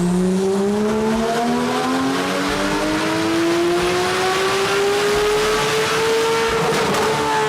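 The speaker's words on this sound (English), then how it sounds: "That right there is how the GT2 RS should sound." A twin-turbo Porsche GT2 RS engine revs hard and climbs steadily in pitch, loud and close with a rising whine and tire noise throughout, no talking.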